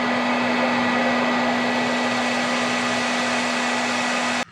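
A heat gun heat-sets paint on a brown trout parr lure, blowing a steady, close whirring hiss with a constant motor hum until it switches off at the end.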